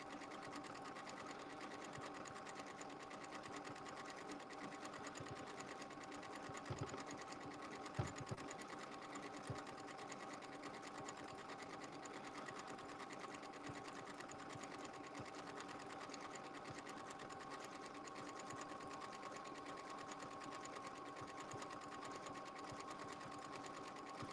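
A sewing machine stitches fabric over a Sew Steady mat with a steady, faint mechanical hum and whir that runs without a break, joined by a couple of small clicks partway through.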